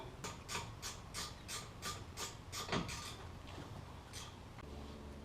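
Ratchet tightening the rear bolt of a front lower control arm on a 2011 GMC Acadia, heard as a series of quick, evenly spaced clicking strokes close by with a louder scrape near the middle.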